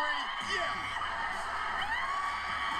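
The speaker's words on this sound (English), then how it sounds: "Listen to the screams here." A wrestling crowd at a women's match shrieks and whoops in loud sustained screams, with shrill rising and falling voices layered together, close and continuous across the whole stretch.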